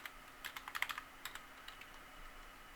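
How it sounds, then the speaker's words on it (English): A computer keyboard is typed on as an IP address is entered: a quick, faint burst of about a dozen crisp key clicks, a pause, then a few more scattered taps, with no voices. "we're going to type in that address"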